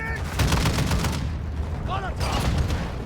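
Video game gunfire aimed at a helicopter: rapid bursts of automatic shots crackle in a dense volley, pause briefly, then resume, with a player's voice talking over the shooting.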